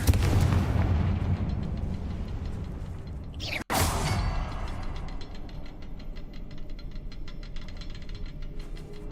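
A Confringo blasting spell in a Harry Potter video game bursts in a heavy booming explosion that cuts out sharply for an instant, then a sustained crackling rumble follows and lingers.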